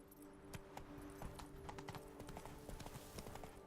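Geralt's horse Roach trots in The Witcher 3, a steady, even clip-clop of hooves that runs through the whole stretch, moderately close over a low background hum.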